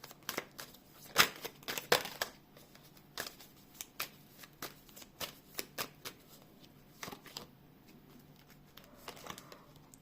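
Rapid papery riffling of tarot cards, with a couple of louder flurries near the start, then steady soft flicks and taps close by, no talking.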